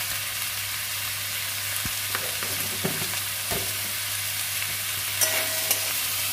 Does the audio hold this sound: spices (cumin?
yes